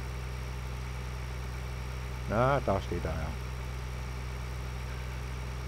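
A combine harvester in the Farming Simulator video game idles with a steady low engine hum and drone, while someone talks briefly over it.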